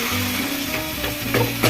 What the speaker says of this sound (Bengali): মাছের মাথাগুলো এইভাবে খুন্তি দিয়ে ভেঙে নিতে হবে।